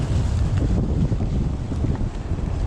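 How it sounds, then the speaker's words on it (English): A strong wind gust roars through trees in a muddy woodland trail area, a loud, continuous rushing blast buffeting the microphone throughout with no pause. "that gust there,"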